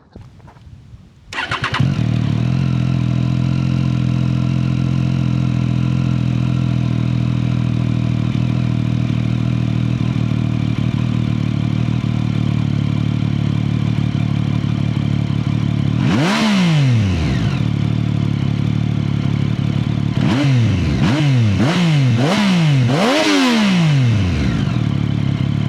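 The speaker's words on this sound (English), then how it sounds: "I got a Triumph, and I love it. It's an absolute beast, and it sounds amazing." A Triumph motorcycle engine starts up and settles into a loud, steady idle. Later come one sharp throttle blip and then a quick series of four or five revs that rise and fall, close up and with no voices.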